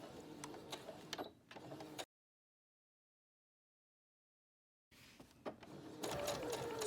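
A sewing machine stitches along the edge of a cotton surgical mask in two short bursts of close, whirring mechanical running, split by a few seconds of silence.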